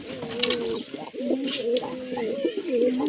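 A pair of grey pigeons sits in a wooden breeding box near a nesting hen with chicks, giving steady, rolling coos at close range, with faint chirps overhead.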